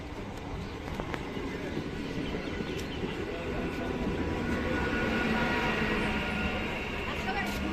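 A train rumbles steadily at a railway station on the route into Kolkata, a continuous low roar with scattered clanks, heard at a moderate distance over a busy platform background.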